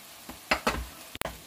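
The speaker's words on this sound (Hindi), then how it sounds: "हरी मिर्च भी अच्छे से फ्राई करके लेंगे हम ऑयल में" Onions and green chillies frying in oil in a home kitchen pan, with a few scraping stirs and short bursts of sizzle, fairly quiet and close, no talking.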